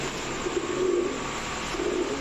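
Female pigeons kept for sale coo in low, repeated throaty murmurs against a constant background hiss, with no voices.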